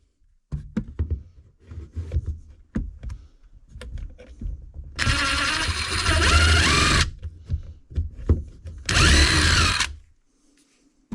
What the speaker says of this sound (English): I guess if I had it in forward, it would drill better.